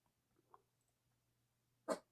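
A single short dog bark sounds near the end of an otherwise quiet stretch, faint and muffled, as if from another room.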